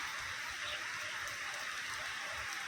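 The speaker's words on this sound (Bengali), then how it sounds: "বৃষ্টির আওয়াজ শুনতে পাচ্ছেন" Steady, even hiss of rain pouring down, a dense wash of drops with no breaks, fairly quiet and slightly distant.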